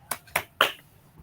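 Children clap in a first-grade maths class, giving three quick, crisp separate claps that sound close and brief.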